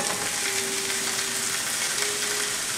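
Gnocchi and sausage fry in olive oil in a pan, a steady close sizzle that continues evenly throughout with no talk.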